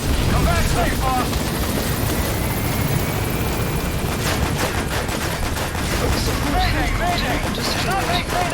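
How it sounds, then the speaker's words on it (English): A helicopter in Metal Gear Solid V roars with dense, continuous rotor noise that stays loud throughout, mixed with rapid gunfire and battlefield clatter. "Shot down the chopper."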